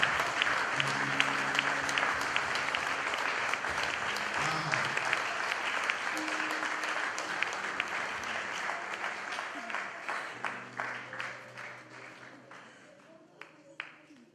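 A church congregation applauding during a worship service, dense sustained clapping that slowly thins and fades into scattered claps, with voices talking and singing beneath.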